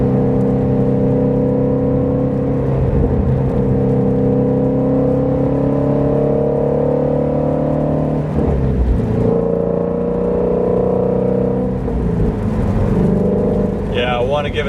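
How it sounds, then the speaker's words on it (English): A Shelby GT350 with its resonator deleted, downshifting and accelerating: a loud, sustained engine drone from inside the car whose pitch climbs, drops briefly at a shift, then rises again, with a voice talking over it. "So I'll just do a couple of downshifts and gradual acceleration."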